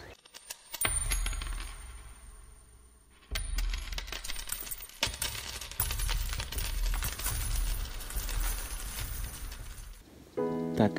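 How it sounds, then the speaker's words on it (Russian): A small aluminium Soviet coin falls out while metal detecting at dusk near a village riverbank, giving a brief clink amid rustling handling and noisy outdoor ambience. "Гляньте, монетка выпала."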